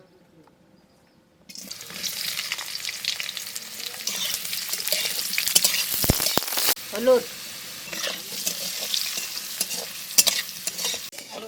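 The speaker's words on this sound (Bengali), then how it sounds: "আলু ভাজা হয়ে গেছে, তুলে দেবো" Potatoes fry in oil in a wok, a steady hiss with scraping stirs and clatter, beginning after a quiet second and continuing under a brief spoken word.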